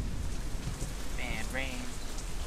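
Steady rainstorm in the Deadlight video game, a constant hiss of rain on surfaces throughout, with a brief faint chirping tone rising over it midway.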